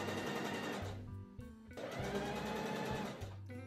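A sewing machine stitches a tote bag in a continuous whirring run, loud and close, with a brief pause partway through before the motor starts again.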